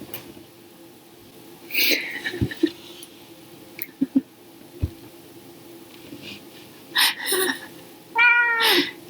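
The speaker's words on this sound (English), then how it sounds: "now you're purring like, oh, I'm so cute" A pet cat meows several times close by, with short mewing cries spaced between quiet stretches and soft handling clicks, ending in a louder run of meows.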